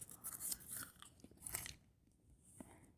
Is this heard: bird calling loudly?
no